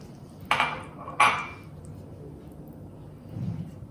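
A spoon scraping and knocking against a pan while stirring a thick corn flour mixture, two sharp metallic clinks close together, then a soft low scrape.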